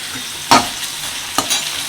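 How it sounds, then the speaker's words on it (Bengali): Garlic is stirred into potatoes and onions frying in a pan, giving a steady close sizzle broken by two brief spatula scrapes, with no voices. "আলু আর পেঁয়াজ লাল লাল করে ভেজে নিয়েছি এবার এর মধ্যে আমি মিশিয়ে দিচ্ছি এক চা চামচ রসুন"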